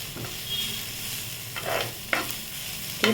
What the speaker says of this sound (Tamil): பொன்னிறமாக நல்லா வதக்கி எடுத்துக்கோங்க